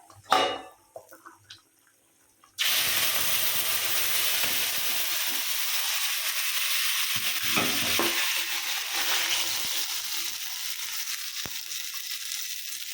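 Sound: fish frying in coconut oil on a stove

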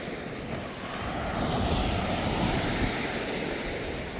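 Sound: sea waves on the beach

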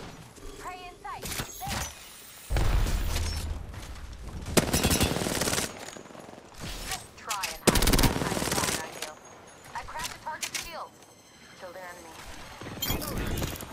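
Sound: gunfire in a video game

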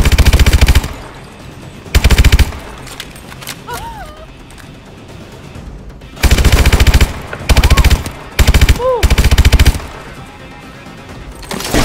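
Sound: machine gun suppressing fire in Call of Duty: Advanced Warfare video game

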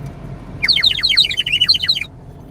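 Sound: person imitating a bird call

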